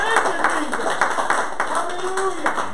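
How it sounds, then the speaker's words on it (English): A church congregation claps in praise during a worship service, rhythmic hand claps in a quick repeating beat, fairly close and loud, with voices rising over them. "Somebody give the Lord a hand clap of praise."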